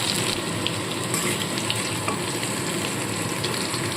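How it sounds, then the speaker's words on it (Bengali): Potatoes fried to a reddish brown sizzle steadily in hot oil while being lifted out, a constant close broadband crackle with light scraping, no voices. "আলুগুলো বেশ লালচে করে ভেজে নিয়েছি এবার এই আলুগুলোকে তুলে রাখবো"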